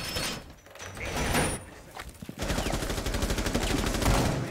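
Bursts of rapid gunshots fired from the hip in the tactical shooter Rainbow Six Siege, several quick rattling volleys separated by short pauses, loud and close with a final sustained burst.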